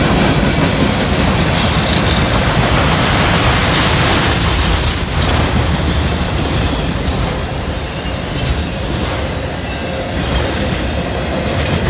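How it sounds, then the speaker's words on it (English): A long freight train of auto racks, hoppers and gondolas rolls past close by on a cold day, a loud unbroken rumble of wheels and clanking cars with faint squeals throughout. "I'm looking for the one with Homer sleeping all the way down the side of the auto rack"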